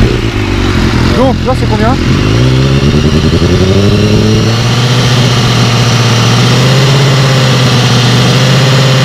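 A motorcycle engine cranks and catches about a second in, then settles into a loud, steady idle close by during a sound-level meter check, with people talking over it.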